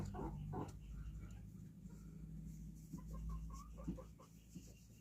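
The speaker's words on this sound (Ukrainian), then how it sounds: "Це мої дві курочки." Two hens cluck softly in short bursts against a low background hum, fairly quiet and close by.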